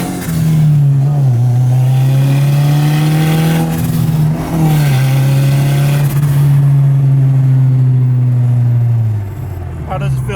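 Turbocharged Honda Civic making about 300 horsepower, accelerating hard after a tune, its engine droning loud and steady with rising pitch and brief dips at gear changes; voices talk over it throughout.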